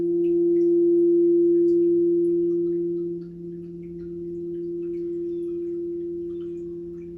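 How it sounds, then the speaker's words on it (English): A singing sound bowl holds a pure, steady ringing tone with two clear sustained pitches, loud and close. It swells briefly and dips midway, then settles back into a smooth, even hum. "this is what I love to do with my sound bowls"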